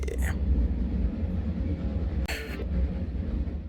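Constant low rumble of a moving train in the video game Final Fantasy VII Remake with a rolling hum, punctuated by two brief bright hissing bursts.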